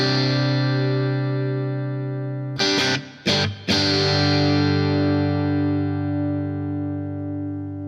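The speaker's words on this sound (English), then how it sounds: "We'll do a Vox clean without all the delay and fluff. We'll keep the rich hall reverb in there." A clean electric guitar chord in a Vox clean tone rings out with a spacious hall reverb tail, briefly interrupted by a few quick strums before sustaining and slowly decaying.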